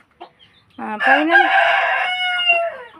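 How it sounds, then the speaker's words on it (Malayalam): Chickens on a home hatch, including newly hatched chicks from a clutch of nine, give a loud, close rooster-like crow lasting about two seconds, preceded by a few short clucks and trailing off into faint cheeps. "നമ്മുടെ കോഴിമക്കളാണ്, കോഴിക്കുഞ്ഞുങ്ങൾ."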